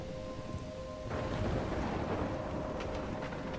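A thunderstorm in the game Life is Strange rumbles low and steady with hissing rain, a faint tone fading beneath as the downpour thickens partway through, alone with no voices.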